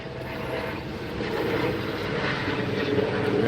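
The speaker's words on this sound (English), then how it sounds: "we have helicopters flying around" Helicopters fly around in the background outdoors, heard as a steady broadband rotor and engine drone that slowly grows louder through the clip, with no talking over it.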